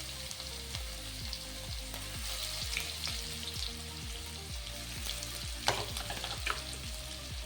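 Crushed green chili and garlic thecha fries in hot oil with cumin and mustard seeds, giving a steady, close sizzle broken by regular rhythmic stirring scrapes in the pan.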